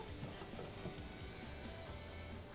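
Capsicum masala hitting a hot pan, giving a steady, close, loud sizzle with faint stirring scrapes and no talking.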